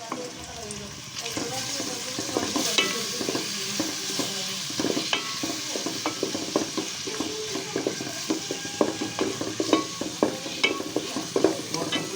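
Chopped onion frying in hot oil for a Bengali chicken curry with ash gourd, making a continuous sizzle broken by frequent clicks and scrapes of stirring, moderately close.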